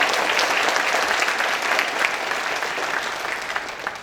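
A crowd at a tech conference keynote applauding loudly and steadily for a few seconds, the clapping dense and continuous, tapering slightly toward the end.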